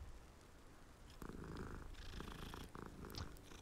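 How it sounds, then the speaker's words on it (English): A cat in the video game Hogwarts Legacy purrs while being petted, a faint, steady low rumbling purr that swells slightly partway through, heard alone without speech. "After I pet this cat."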